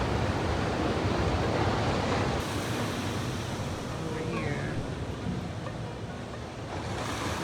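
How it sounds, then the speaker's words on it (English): Ocean surf crashing along a Hawaii shoreline on a rough morning, a steady broadband roar of breaking waves with wind buffeting the microphone throughout, close and loud, without a break. "The waves are crazy this morning."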